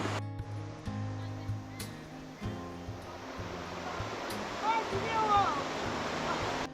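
Rushing water of the Tamala River in San Marcelino flows steadily and grows louder toward the end, with voices murmuring underneath.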